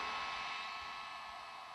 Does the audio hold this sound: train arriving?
no